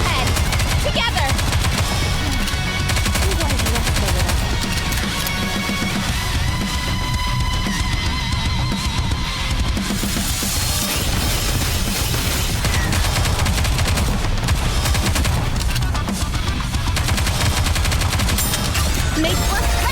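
Sustained, loud gunfire in the game Goddess of Victory: NIKKE, rapid machine-gun bursts and volleys rattling continuously in the foreground, with game voices speaking intermittently underneath.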